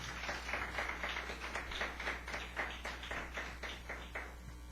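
A church congregation claps together in a steady rhythmic beat at a men's worship service, many hands sounding fairly even and continuous, moderately distant and alone without talk.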